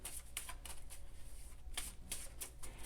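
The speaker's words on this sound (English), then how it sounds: "it says to shuffle them 7 times, and then I'm going to shuffle however much is necessary" Tarot cards being shuffled by hand at close range, quiet repeated riffling bursts in an irregular rhythm, with short pauses between shuffles and no talking.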